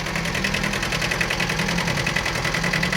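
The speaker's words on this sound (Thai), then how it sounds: "เครื่องยนต์สองสูบ ขับเคลื่อนสี่ล้อครับผม" A small two-cylinder engine on an old Japanese four-wheel-drive tractor idles steadily nearby with a constant low chugging rumble and a fast, even knocking beat. There are no voices.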